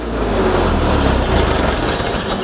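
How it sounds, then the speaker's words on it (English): A Ford 8N flathead tractor engine runs steadily after a valve job, a loud, even idle with continuous low rumble and vibration and no talking. "Our valve job is complete and the tractor is back to running well."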